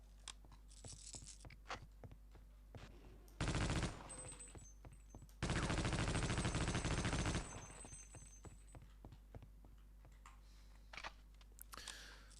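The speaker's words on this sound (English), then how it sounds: "This light machine gun doesn't seem to have a very large magazine." Light machine gun fire in Half-Life: Opposing Force comes in two loud, close bursts of rapid automatic shots, a short one and a longer sustained one, with quieter mechanical clicks and ticking between them.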